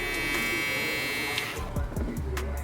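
Gamma Uno electric shaver running close up with a steady, high buzzing hum, followed by brief speech toward the end.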